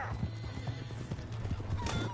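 Horse in the Red Dead Redemption video game whinnies and trots with steady clip-clop hoofbeats, close and clear under a busy game soundscape.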